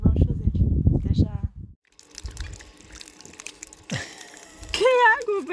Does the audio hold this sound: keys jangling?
no